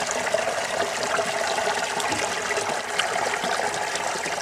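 A caught catfish being washed in river water during the rainy season, with continuous close splashing and trickling water throughout.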